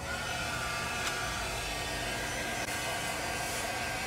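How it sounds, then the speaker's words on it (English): A heat gun blows in a continuous close, loud roar while heating the whole surface of an embossed craft tag. "you're going to take your heat gun and you're going to go ahead and you're going to heat the whole surface of the tag"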